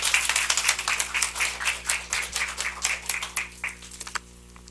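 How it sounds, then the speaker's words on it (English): An audience applauds a volunteer at a live entertainment show, with dense, steady clapping for about four seconds before it stops abruptly. "Everybody give Beverly a big round of applause."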